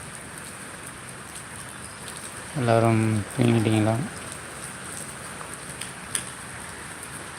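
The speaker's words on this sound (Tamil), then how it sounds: "சென்னையில் மழை பெஞ்சிட்டே இருக்குது கிட்டத்தட்ட நான்கு நாலு மணி நேரமாக பெஞ்சின்னு இருக்குது" Heavy night rain pours over Chennai in a steady, dense hiss that runs the whole way through, with a voice briefly speaking over it near the middle.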